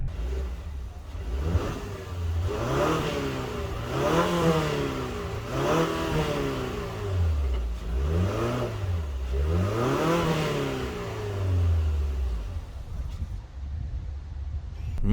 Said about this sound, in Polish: A tak pracuje wydech.